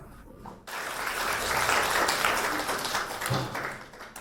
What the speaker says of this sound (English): let us give a warm round of applause to welcome Khenpo to share his wisdom on life with us